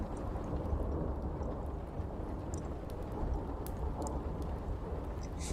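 Steady rain with soft rumbles of thunder, a constant wash of falling water holding even and moderately loud from start to finish, used as a stormy backdrop.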